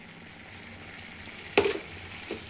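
Vangibath mixture frying in a pan, a soft steady sizzle with one sharp clatter of a stir or utensil partway through and a fainter knock near the end.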